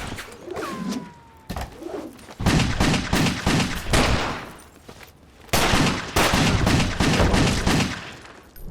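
Gunfire in the PS3 action game WET comes as dense, loud bursts of rapid shots in two long stretches, split by brief quieter gaps with a short whistling tone early on.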